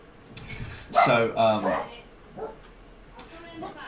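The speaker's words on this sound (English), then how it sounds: "Sorry about the dog, but it's just about to go for a walk." A dog gives a few short, nearby barks and yips, uneven and close together, with quiet pauses between them.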